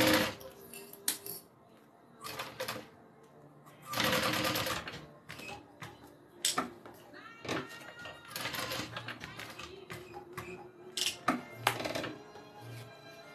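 A sewing machine stitches a bag in bursts of loud, rapid mechanical whirring, starting and stopping several times with quiet pauses and faint handling noises between runs.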